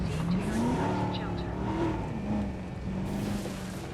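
A car drives up in the video game Jurassic World Evolution, its engine droning steadily with rising and falling pitch sweeps, loud and close, while a person talks over it.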